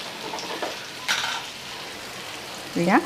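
Bhaji frying in oil in a pan, a continuous soft sizzle broken by a couple of sharp metallic stirring scrapes and clinks, heard up close.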